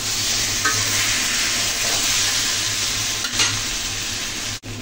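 A spoon stirs fried taro roots into cooked spices in a sizzling pan, a continuous loud fry with faint scraping of utensil against metal near the end.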